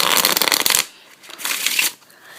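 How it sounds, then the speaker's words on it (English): Two quick riffle shuffles of playing cards, each a rapid fluttering burst of cards close by, separated by a brief pause. "I'll give it a quick riffle shuffle"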